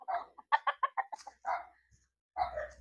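Chickens clucking while being bathed on a mountainside farm, a run of short, close clucks and squawks in quick rhythmic bursts, with a brief pause before another loud call.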